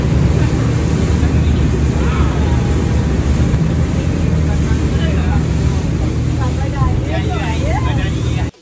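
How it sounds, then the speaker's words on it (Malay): Heavy wind buffets the microphone over rushing water, strong waves and a boat engine's rumble on a ride to Pulau Kapas in poor weather, constant and loud, with voices faintly heard beneath. "Masa ni ombak memang kuat gila, angin pun kuat"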